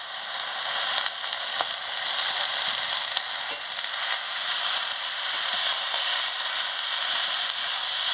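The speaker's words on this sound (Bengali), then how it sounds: "পুঁই শাকটা মশলার সঙ্গে দিয়ে ভালো করে কষিয়ে নিচ্ছি" Malabar spinach stirred with spices in a hot pan gives a steady, close, even sizzle with faint scraping from stirring, all alone and without talk.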